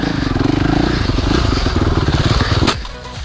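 Honda CRF 450 motorcycle from 2017 with electric start, its engine running loud and close with a steady low throbbing idle that drops off sharply near the end, no voices present.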